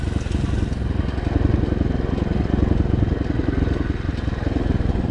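A Racer 110 small motorcycle engine runs continuously and close, a loud, steady, rattling putter held through a gentle break-in ride.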